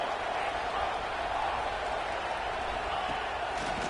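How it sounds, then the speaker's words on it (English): Broad, steady roar of a football stadium crowd at a Nebraska game, cheering loudly and continuously as the defense holds in the red zone, with no pauses or distinct voices standing out. "the crowd coming to life here, trying to help this defense down in the red zone"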